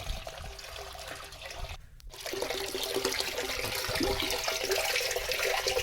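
Continuous running water, like a tap flowing steadily, briefly interrupted near the middle before resuming a little louder.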